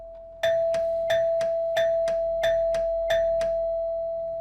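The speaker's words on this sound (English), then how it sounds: "The bell rang again, then 5 times in a row." A doorbell at the locked gate of a building rings five times in a row, each press a bright, loud two-tone chime over a steady tone, evenly spaced about two-thirds of a second apart.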